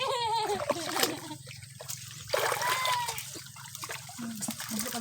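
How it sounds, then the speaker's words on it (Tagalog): Water trickling and splashing outdoors, a continuous wet dribble with occasional splatters, heard alongside people talking and other background sounds. "Tunog pa na yung tubig."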